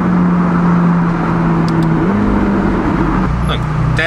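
An 850-horsepower supercar's engine drones loud and close inside a tunnel, its pitch holding steady and then shifting partway through, with a voice talking over the noise.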